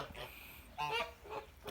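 A few honking goose calls, moderately quiet, with a pair of louder honks in the middle and a softer one toward the end.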